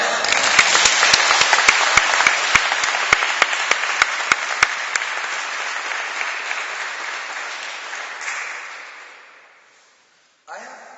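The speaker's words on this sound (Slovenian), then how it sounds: "we want to give God a round of applause right now." A crowd applauds loudly and steadily for several seconds, then the clapping fades away and stops, followed by a brief moment of silence.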